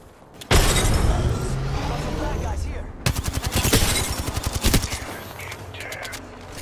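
A grenade explosion in a video game bursts loudly and close, followed by a rapid run of sharp gunfire crackles and further blasts that trail off into quieter scattered shots.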